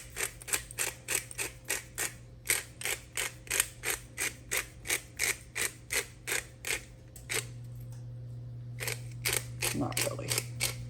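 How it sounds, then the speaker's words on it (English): A pepper grinder is twisted in a fast, regular run of sharp ratcheting clicks. A steady hum sits underneath, and the grinding stops partway through. No voices. "Let's see if this grinder has a little bit more pepper in it."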